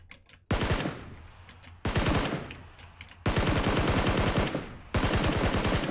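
PUBG automatic gunfire comes in four loud bursts of rapid shots, each separated by a short pause with a lingering echo. No voices are heard.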